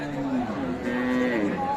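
A cow lets out a long, low moo close by at a cattle market, with murmuring voices and crowd noise in the background.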